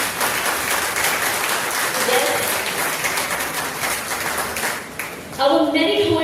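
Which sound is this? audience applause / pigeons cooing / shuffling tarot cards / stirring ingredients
audience applause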